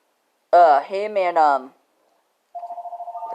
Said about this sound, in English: this is the phone